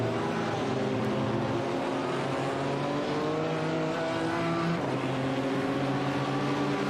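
GT race car engines roar continuously in a sim racing game during a two-hour ADAC Digital GT500 endurance race, with layered revving tones rising and shifting as cars run close together, no talk over them.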